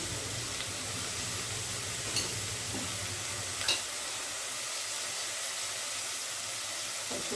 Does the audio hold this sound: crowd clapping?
no